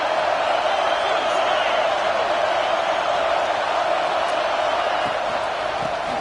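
Simulated stadium crowd in College Football 26 during a Texas Tech at Oklahoma game, a steady loud roar of cheering that holds constant throughout with no break.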